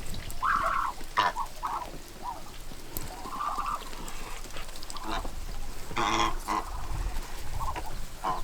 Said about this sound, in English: And it is looking like Little Lucky Duck, the last duckling from last year, is a little girl.